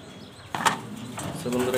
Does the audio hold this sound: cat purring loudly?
no